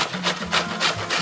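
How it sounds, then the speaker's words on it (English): A whole onion is rasped against a handheld grater in a home kitchen, giving about four close, rhythmic scraping strokes in quick succession. "Just going to grate enough onions."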